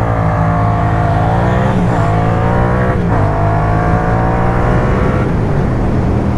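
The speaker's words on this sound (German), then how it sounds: "jetzt hier Ducati Monster, 34 PS gegen Yamaha MT-07 mit 48 PS" A Ducati Monster 600 with 34 hp and a Yamaha MT-07 with 48 hp launch from a standing start, their engines roaring loud and close with steadily rising revs throughout, and no talking.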